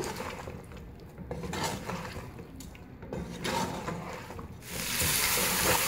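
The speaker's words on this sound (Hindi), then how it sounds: "अब इसको अच्छी तरह से मिक्स करेंगे।" A spoon scrapes and clatters against a cooking pot as chicken and cauliflower are stirred together, giving steady metallic stirring sounds that end in a rising hiss.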